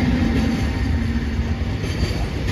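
Freight train hauled by locomotive EF219 passing through Kitanagase station in Okayama, a steady loud rumble of wagons rolling by close at hand with a sustained low hum and continuous rail noise throughout.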